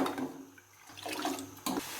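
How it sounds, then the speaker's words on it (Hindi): Water on a saucepan over a high flame for tea bubbles and churns in bursts, close and fairly loud, with a gurgling surge near the end. "पानी को बॉयल आ गया है"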